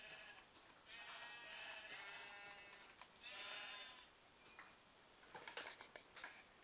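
Faint sheep bleats from Minecraft, a few soft wavering calls spread across several seconds over a quiet background with light clicking sounds.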